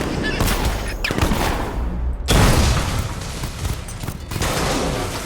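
Gunfire in the video game Batman: Arkham Knight plays as dense, loud bursts of shooting and booms over a continuous game soundscape with no break between them.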